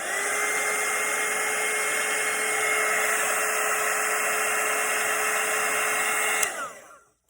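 A hair dryer blows steadily over a red and gold watercolour painting, a loud, even whoosh that holds for several seconds before cutting off and winding down.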